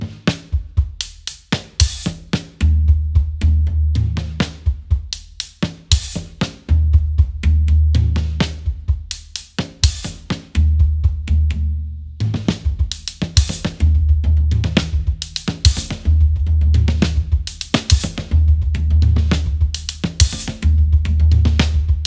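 A drum kit fill chop, played at 125 and looped, with punchy snare hits and booming floor tom strokes repeating in quick, tight rhythmic bursts, loud and close with no talk.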